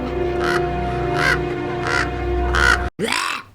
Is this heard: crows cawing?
yes